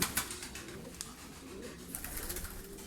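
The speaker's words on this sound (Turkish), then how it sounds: "Bakın burada posta güvercinleri var." Homing pigeons coo quietly in a loft, faint and low beneath steady background noise, with a few scattered clicks and taps.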